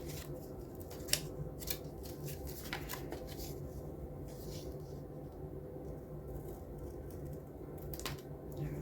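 Scissors cut through paper, a run of quiet, close snips and crisp slicing strokes over several seconds, with faint rustling between cuts and no talking.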